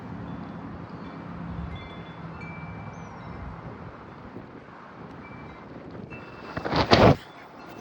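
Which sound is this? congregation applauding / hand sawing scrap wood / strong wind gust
strong wind gust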